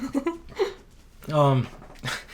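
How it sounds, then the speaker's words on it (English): A dog wakes up nearby, giving short whimpers and a drawn-out whining cry mixed with breathy panting, close and moderately loud. "The dog woke up."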